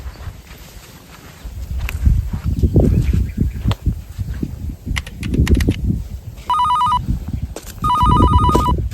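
A telephone rings in two electronic bursts over a rural farm scene, with people talking and footsteps around it.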